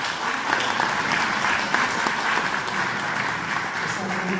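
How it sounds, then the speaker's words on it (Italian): An audience in a seminary in Mantua claps steadily, a dense, even wash of applause that stays loud from start to finish. "gli facciamo un applauso."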